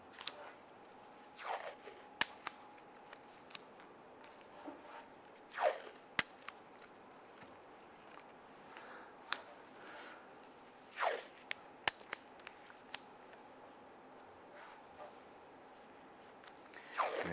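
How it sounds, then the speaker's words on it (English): Basic painter's tape being pulled and pressed on around the paint near the antenna base of a 2002-2008 Dodge Ram 1500. Scattered short crinkles, tearing rasps and sharp ticks come at irregular intervals over a quiet background, with no talking. "we're going to go ahead and put some tape around the paint just to protect us from marking up the paint or the finish"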